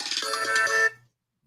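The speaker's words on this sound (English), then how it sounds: "My phone never goes off until I'm doing something, and then everybody wants to call you." A mobile phone ringtone plays a bright, busy electronic melody for almost a second, then stops abruptly and leaves silence.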